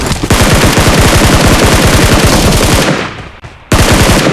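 Loud, rapid automatic gunfire in PUBG Mobile, a fast burst of regular shots that runs about three seconds, breaks off briefly, then starts again close and dominant.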